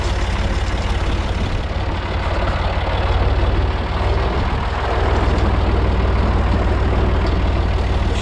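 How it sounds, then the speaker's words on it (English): Old skid steer pushing hay in a barn, its engine running with a continuous heavy low rumble and a thin hydraulic whine over it, loud and steady with slight rises in load; no speech. "I don't know how the new ones are quieter unless they just put more insulation built into the skid steer so you don't hear the pumps whining all the time"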